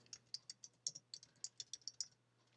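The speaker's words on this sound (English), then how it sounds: "I'm going to type my title." A title typed on a computer keyboard: about a dozen light, evenly spaced key clicks in a steady rhythm, faint and close, with no voices.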